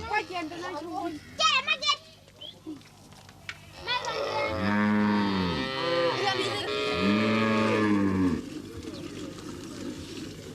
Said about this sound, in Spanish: Las mujeres van a ordeñar las vacas.